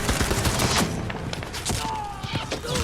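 Heavy gunfire with many bullets fired, a dense, loud barrage of overlapping shots and bursts that continues without a break throughout.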